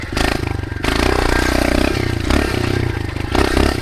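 A dirt bike engine running in the desert, idling with a steady loud throb and slight rises in revs, close by with some clattering. No one speaks.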